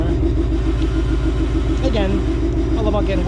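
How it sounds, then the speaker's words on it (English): A supercharged 2019 Ford Mustang GT idles with a steady low rumble and a continuous buzz from the exhaust rubbing somewhere, close and constant, with a voice speaking briefly over it. "Buzzing here is the exhaust rubbing somewhere."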